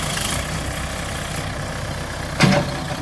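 A farm tractor buried in soft, wet mud idles with a steady low engine drone that swells briefly into a louder rumble near the end, with no talking.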